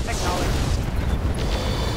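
Mech weapons in BattleTech (Roguetech mod) firing ERPPC, pulse lasers and flamers: a steady, heavy rumbling roar with muffled booms throughout, and a voice faintly under it.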